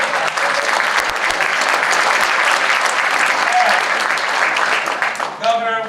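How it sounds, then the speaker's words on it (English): Audience applause at an evening event with a New Jersey governor, a dense, sustained wash of clapping that fills the room, loud and steady throughout before tapering slightly at the very end. "Let's just give them a round of applause."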